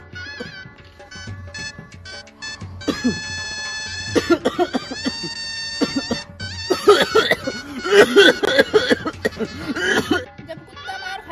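Several harsh coughs come in bursts, mixed with high, wavering animal cries and meows, fairly close and moderately loud.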